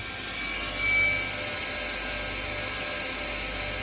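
A 2005 Daewoo DMV 4020 CNC vertical machining center runs its spindle warm-up cycle at 3,000 RPM, giving a steady high-pitched whine over constant broadband machine noise, with a slight swell near the start.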